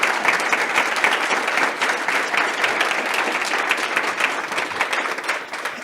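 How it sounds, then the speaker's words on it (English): Audience at a peace and justice conference session applauding the panel, a steady dense clapping from a large crowd that holds at an even level for about six seconds. "a round of applause for them"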